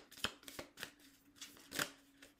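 Tarot cards are shuffled and drawn in a few quick, close papery flicks and snaps, irregularly spaced over a couple of seconds, soft and intimate with no talking.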